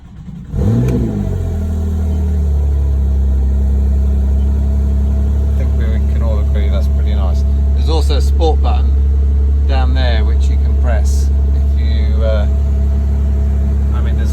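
A Porsche 911 GTS engine starts and settles into a steady, deep idle close by, with someone talking intermittently over the running engine.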